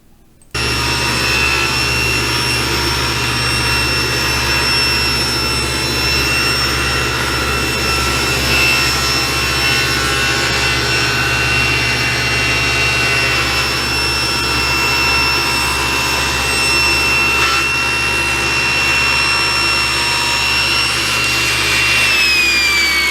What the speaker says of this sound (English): they were then faced up again and sent through my planer for final thickness